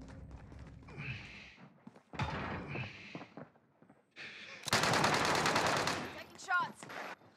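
A Call of Duty Warzone firefight with bursts of gunfire, including a sustained rapid automatic stretch near the end, mixed with other game effects and brief voices.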